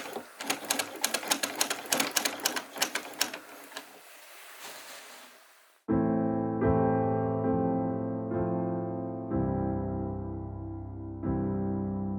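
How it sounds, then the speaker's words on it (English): A small old sewing machine in an abandoned music house in England runs in quick mechanical bursts of rapid ticking and clatter, then gives way to sustained tonal notes, like an instrument being played. "look at this small sewing machine. It also still works."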